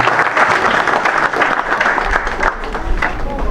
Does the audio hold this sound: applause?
yes